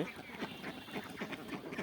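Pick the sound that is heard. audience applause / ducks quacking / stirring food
ducks quacking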